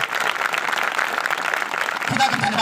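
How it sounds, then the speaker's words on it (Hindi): Applause from the audience at a church meeting in Sitapur, Ambikapur: steady, dense clapping from many hands throughout, with someone speaking over it near the end. "एक बार हम ताली बजा करके भाई खड़े हो जाए"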